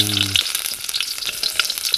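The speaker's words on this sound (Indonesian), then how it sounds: "kita masukkan tumis dulu." Sambal spices stir-fry in a hot pan, giving a steady close sizzle and crackle with scraping stirs mixed in. The cooking takes place at a simple hut in the forest.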